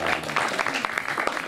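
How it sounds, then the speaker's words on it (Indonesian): Brief applause from a stand-up comedy show audience for two contestants, with separate claps audible in a loose, uneven patter over a short stretch. "Jadi tepuk tangan untuk kalian berdua ya."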